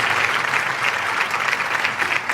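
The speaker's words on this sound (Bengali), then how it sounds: "আবার একবার জোরে হাততালি।" Loud, steady applause from a class of seventh-grade students at an indoor quiz event, a dense wash of clapping that runs unbroken from start to finish with no talk over it.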